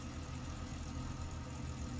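The piston engine of a Robinson R22 helicopter in X-Plane 12 drones on as its revs sag, a steady low mechanical hum with no sharp changes.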